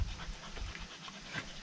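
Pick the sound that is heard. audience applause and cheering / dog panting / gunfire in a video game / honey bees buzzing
dog panting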